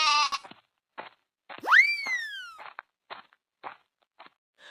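A cartoon goat kid bleats in a jungle story where a hyena attacks. A short harmonic bleat is followed by a swooping, boing-like effect and a series of brief, clipped cartoon noises.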